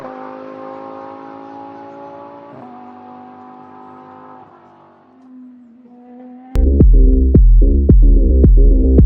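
Vehicle driving in PUBG Mobile on the Erangel map: a sustained engine hum with shifting pitch that fades, then a loud, rhythmic burst of repeated chugging hits takes over near the end.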